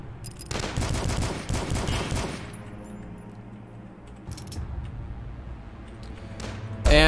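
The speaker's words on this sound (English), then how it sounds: "Obviously, I hear some gunshots." Bursts of rapid gunfire from the video game DUSK crackle loudly in the opening seconds, then scattered shots and a fainter rattle continue, with a sharp burst at the very end.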